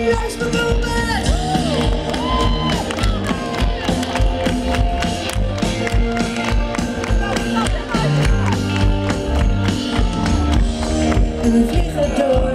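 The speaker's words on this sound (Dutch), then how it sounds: "applaus voor Wilbert!" Crowd applause and cheering at a concert at the Strandfestival Zand 2015 beach festival, a loud, sustained roar of clapping, whoops and shouts running throughout, close and dense, with music and voices mixed in.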